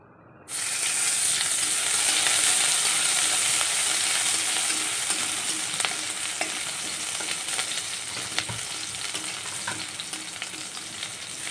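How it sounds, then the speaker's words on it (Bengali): Garlic tempering for dal bursts into a loud hissing sizzle as it hits hot oil, then settles into a steady crackling fry with occasional faint clinks, no voices. "ডালটা আজকে মা রসুন দিয়ে ফোড়ন দেবে"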